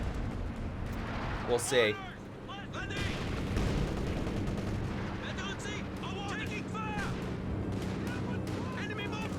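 Gunfire and shell blasts from a 4v4 Company of Heroes 2 battle on Lanzerath Ambush, with machine-gun bursts and rumbling explosions running continuously beneath a caster talking throughout.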